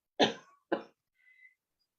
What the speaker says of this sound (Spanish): Todavía continúo con un poco de tos